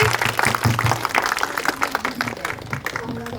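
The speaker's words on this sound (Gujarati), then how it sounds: "તાળી વગાડો પોતાના માટે" A carnival audience applauding themselves, a short burst of mixed hand clapping and crowd noise with voices mingled in, fairly close and lively before tapering off.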